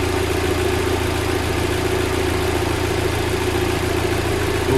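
An Audi A3 2.0 TFSI with a snapped turbo idles steadily and evenly at close range, a continuous engine drone that holds for the whole stretch with no voices.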